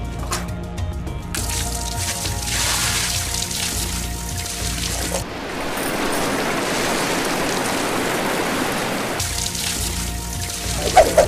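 A full bucket of water is poured out forcefully to mimic a waterfall, giving a loud continuous rushing splash that holds for several seconds, with lighter water sounds before and after.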